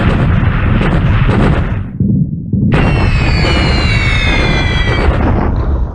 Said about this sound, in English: this is preparatory bombing of Manila's garrison before the attack